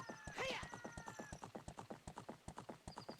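A horse in a video game trots with steady, rapid clip-clop hoofbeats, close and distinct, with a brief whinny near the start.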